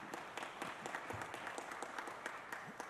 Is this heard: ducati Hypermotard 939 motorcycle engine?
no